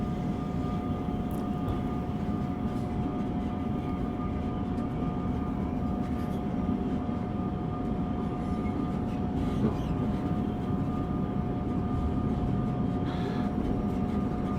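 A long passenger train in Train Sim World 3 rumbles steadily through a tunnel on the Northeast Corridor between New York and Trenton, a constant deep roar with faint clanks and a thin whine, no talking.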